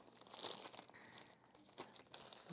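Faint crinkling and tearing of plastic packaging as an Osmo Pocket charging case is ripped open, a few quick rustling bursts up close and quiet.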